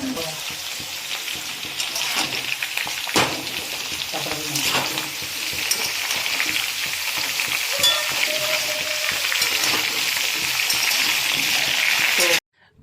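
Potato pieces sizzle and crackle continuously in hot oil in a pan for Burdwan-style eggplant curry, with occasional stirring clatters, ending abruptly.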